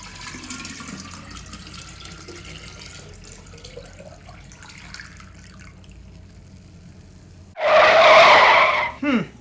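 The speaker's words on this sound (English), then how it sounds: "we are going to get the water into the jar" Water is poured into a jar for homemade water kefir: a loud, close splashing pour bursts in near the end and lasts under two seconds after a long, quiet stretch of faint room noise.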